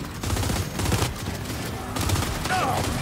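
Gunfire in a Gears 5 firefight, with a sniper among the shooters: a steady stream of loud shots and bursts keeps going throughout, and voices are mixed in underneath.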